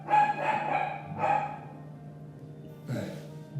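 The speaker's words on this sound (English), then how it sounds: "Dogs." A few separate barks from a dog, spaced unevenly over a few seconds, with quieter stretches between them.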